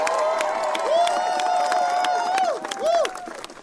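A crowd cheers and claps behind a speaker at a political rally, a steady roar of voices and applause with a few whistles rising and falling, fairly loud and continuous.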